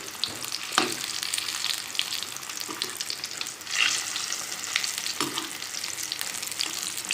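Maida and potato pakoras sizzling and crackling in hot oil, a steady bright frying hiss with occasional pops and stirring clinks, close up, no talking.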